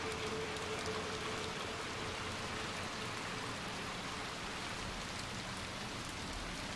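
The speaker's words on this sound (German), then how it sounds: "Der Regen wird stärker." Steady, dense rain falls in the Little Nightmares 2 video game, a continuous hiss of drops on surfaces that stays even and fills the whole scene with no voices.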